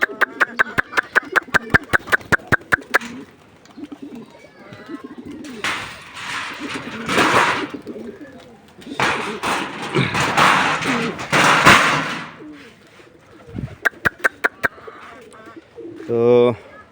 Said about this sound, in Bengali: তো কবুতরকে এখন খাবার দেবো।